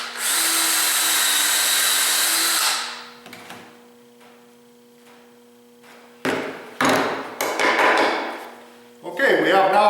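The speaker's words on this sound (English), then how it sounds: "proceed to drill that one" A dowelling tool clamped over lined-up marks drills a clean dowel hole: a loud, steady power-drill whine for nearly three seconds, then quieter clatter of repositioning and tightening, and several short drill bursts near the end.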